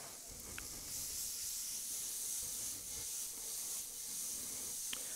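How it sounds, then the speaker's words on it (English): Salted mushrooms sizzle in a hot pan while cooking chicken Marsala, giving a steady close hiss of steam and frying with no talk over it. "now that we've added the salt, there's even more steam coming off them now"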